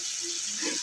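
A splash of water poured into tomato frying in oil for a light pomfret curry, a brief close gush and hiss of water in the pan, lasting under a second.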